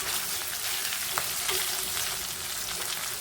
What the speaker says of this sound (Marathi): 2 मिनिटं परतू देऊ मसाला.